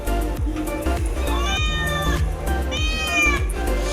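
Two drawn-out cat meows, close and fairly loud, with rising and falling harmonics over a low background hum and occasional soft knocks.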